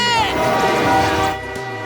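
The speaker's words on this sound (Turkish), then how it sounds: "tren geliyor" An approaching train's horn blares in long sustained tones, loud and close, fading slightly near the end.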